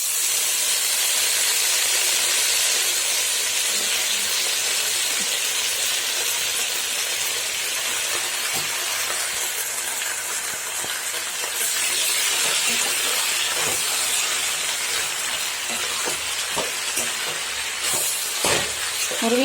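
Drumstick leaves are added to half-cooked tomatoes in a frying pan, giving a loud, steady sizzle and hiss with occasional crackles and stirring clicks.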